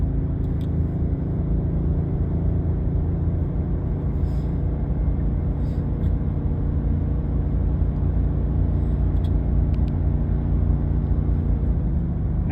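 A Ford F-250 Super Duty with the gas 6.8 engine, downshifted to third, labors up a steep grade in a steady, loud, low rumbling drone heard from inside the cab, with no talk.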